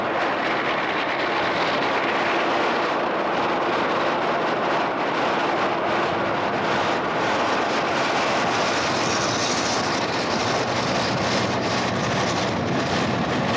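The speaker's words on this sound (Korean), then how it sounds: "(890km에) 이르는 까라자스 철도는 상루이스에서 끝난다." Train on the Carajás railway, a long mining line that ends at São Luís, rumbles past loud and continuous, a steady roar of wheels and wagons with faint clatter throughout and no voices.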